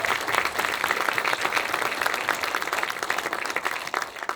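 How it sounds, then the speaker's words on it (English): Audience applause for town facilities staff at a State of the Town event, steady dense clapping from a crowd filling a hall and holding throughout. "So let's give them a round of applause."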